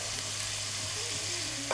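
Onions in olive oil hiss in a pan with a soft, continuous close-up sizzle and faint stirring, and a small knock lands at the end.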